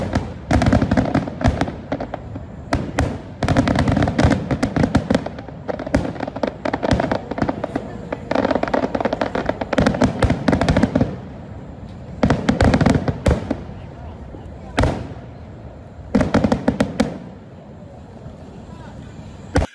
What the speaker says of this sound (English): Let me just show you a little bit of the footage of the fireworks so that you can see how actually it was structured.